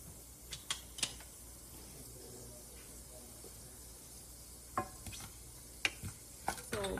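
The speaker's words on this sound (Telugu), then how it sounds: "కరివేపాకు వేసుకున్నాం." Faint sizzling of curry leaves in hot oil with cumin and urad dal tempering, scattered crackles and pops, interrupted by a few spoon clinks and quiet kitchen sounds.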